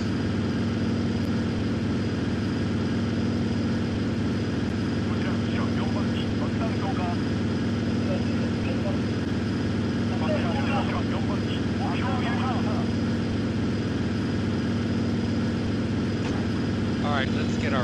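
Propeller-driven bombers such as B-29s drone in a flight simulation game, a steady, loud engine hum filling the whole stretch as someone speaks over it.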